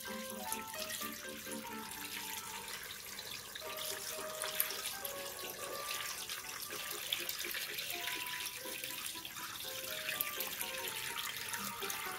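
Water runs steadily from a tap into a pot holding a chicory plant and chicken pieces, a continuous close splashing stream that holds for the whole stretch, with no talk over it.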